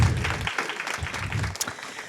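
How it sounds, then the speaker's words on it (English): Applause from a panel discussion audience greeting a keynote speaker, a steady crowd of clapping that runs for about two seconds with low rumble underneath. "Round of applause"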